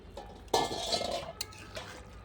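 A lid lifted off a pot of bata river fish and cauliflower curry on a clay stove gives a sudden metallic clatter and clink, followed by a few lighter taps against a faint bubbling background.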